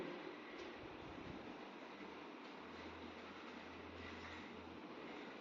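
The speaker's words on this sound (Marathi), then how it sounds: "हे ट्रेन येते येते ती येते" A train approaches with a steady, faint rumbling roar of rolling wagons and a low drone that swells slightly midway, heard from a distance without talk.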